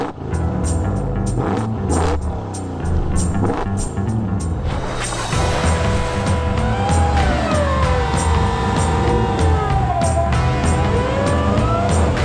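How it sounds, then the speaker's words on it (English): A supercharged V8 Ram TRX pickup truck drives through snow on off-road trails in the Canadian wilderness, its engine rumbling loudly and steadily throughout, with rising and falling revs and no talk over it. "We're taking the Ram TRX, we're burying it in the snow, and we're gonna see how it handles out here in the Canadian wilderness."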